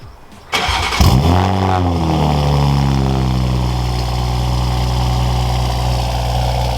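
A Toyota A90 Supra with a Magnaflow X-Mod active exhaust cold-starts with a sharp crank and flare, then settles into a loud, steady, deep idle that drones close up for several seconds.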